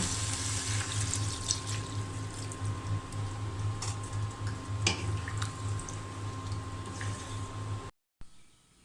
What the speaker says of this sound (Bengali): আমি এখন পানি দিয়ে দেব।